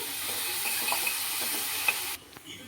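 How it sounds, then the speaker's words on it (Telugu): Grated amla frying in oil makes a steady close sizzle with faint stirring clicks, then drops abruptly to a quieter hiss near the end. "అంత వేసుకొని ఇది ఆయిల్లో ఫ్రై అవ్వాలండి"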